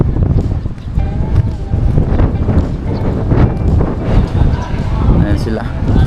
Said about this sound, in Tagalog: Mahangin po ngayon, masama ang panahon. Oh, lakas ng hangin.